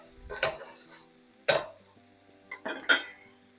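A spatula scrapes and tosses shrimp fried rice ingredients around a pan in three or four distinct sharp strokes, separated by quiet pauses over a faint background sizzle.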